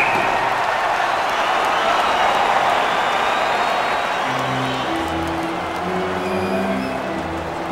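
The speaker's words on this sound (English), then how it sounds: "You can feel the energy in this crowd." Hockey arena crowd in NHL 20, a dense, steady roar of cheering and applause filling the whole stretch, with an organ-like tonal melody joining partway through.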